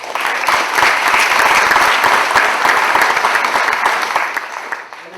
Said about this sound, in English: a round of applause for all of the competitors